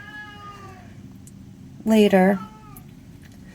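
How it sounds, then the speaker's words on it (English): A cat gives a single loud, close meow lasting about half a second, standing out from quiet background with a person talking softly beforehand. "There he is again, meowing at us."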